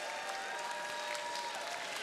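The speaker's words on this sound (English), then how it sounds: "So I'd like a big round of applause for everyone who competed." Audience applause for the competitors at a FIRST robotics district qualification event, a steady dense wash of clapping from a crowd throughout, with faint tonal hum underneath and no clear talk.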